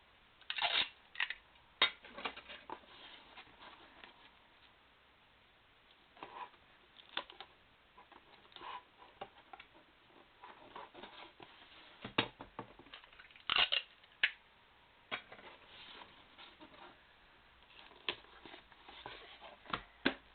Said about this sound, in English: you just get your tape and you tape up the sides